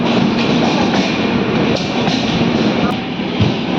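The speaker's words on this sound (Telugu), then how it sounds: "కొప్పల్ నుంచి మన ట్రైన్ బయలుదేరింది" The Mysore–Hubli Hampi Express rumbles steadily throughout as it departs Koppal, a continuous close, loud rolling noise with a faint murmur of voices beneath it.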